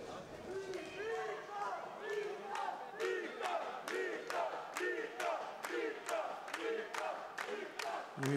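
A boxing crowd chants and cheers in a steady rhythmic pattern, loud repeated shouts in unison with clapping, close and lively throughout.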